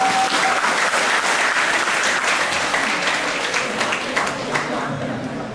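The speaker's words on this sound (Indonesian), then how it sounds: "Tepuk tangan untuk kalian semua." An audience of university psychology students applauds loudly and steadily, a dense wash of many hands clapping at once that tapers slightly toward the end.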